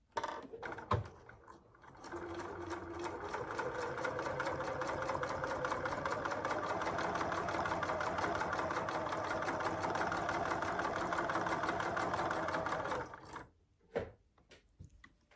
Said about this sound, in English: I'm now going to sew it together